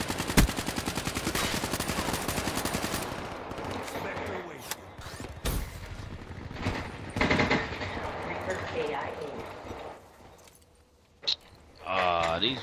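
Rapid automatic gunfire from SMGs in Call of Duty: Black Ops 3, dense bursts of shots and weapon clatter, fading to quieter stretches with a final loud burst, with talk mixed in.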